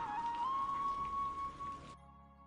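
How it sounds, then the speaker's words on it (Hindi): Steady rain falls over a small village as a dense, even hiss with a thin sustained tone riding above it. The rain cuts off abruptly near the end, leaving only a faint hum. "अब तो बस ये बारिश रुकने का इंतजार है।"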